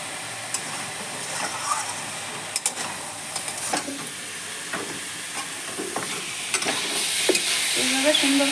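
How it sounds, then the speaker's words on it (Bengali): Cabbage frying and sizzling in a pan as it is stirred, with a steady hiss and repeated clicks and scrapes of the spoon against the pan, close up and without voices. "এইভাবে সুন্দর করে নাড়াচাড়া করতে হবে"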